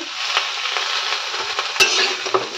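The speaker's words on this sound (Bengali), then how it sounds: "শিম নরম হয়ে এসছে, তো এখন দিয়ে দেবো টমেটো কুচি" Chopped tomato drops into green beans frying in a pan, giving a steady, close sizzle with a few soft stirring scrapes and a brief louder splash partway through.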